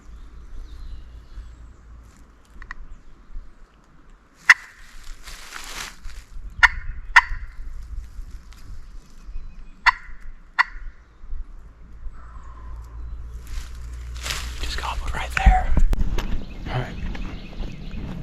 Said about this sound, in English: Thing's gobbling pretty good now.